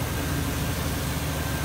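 A freshly swapped car engine idles at an even, low rumble, steady and close with no change in speed over a short moment.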